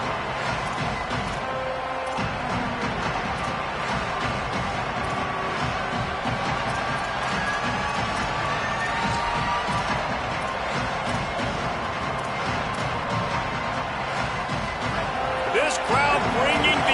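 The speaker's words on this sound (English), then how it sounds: "This crowd bringing the energy and noise early." A loud football stadium crowd roars with cheering and noise, a dense, sustained wall of sound that swells slightly toward the end, with scattered sharp impacts and a commentator talking over it.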